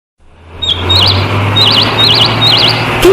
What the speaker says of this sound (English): So many birds on that tree.